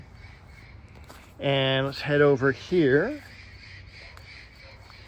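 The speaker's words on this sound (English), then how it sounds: "If you hear parrots in the background, it's because there are parrots in the background." Wild parrots flying over a home garden give a few loud, harsh squawks in quick succession, with someone speaking briefly nearby.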